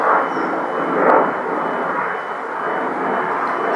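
A Renault Kangoo's engine drones steadily throughout, broadband and fairly loud, with a slight swell near the start and no voices.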